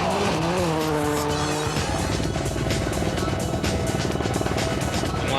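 A Ford rally car at Rally Australia revs hard and lands heavily, its engine note dropping abruptly before a rough, gravelly running noise continues, with commentary over it.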